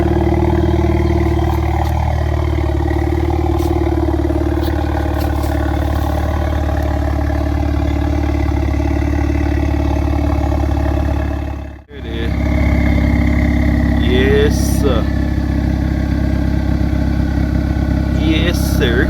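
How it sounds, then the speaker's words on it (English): A 2012 Acura RDX turbo engine with a modified exhaust drones loud and steady up close, with a brief sharp dropout midway before the rumble resumes. "Let it rev down a little bit, y'all hear the turbo."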